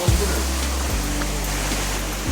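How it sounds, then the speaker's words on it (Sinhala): Lanka Ella waterfall in Sri Lanka roars as a steady, dense rush of falling water, with a couple of low thumps near the start. "ඒ තියෙන්නේ ලංකා ඇල්ල"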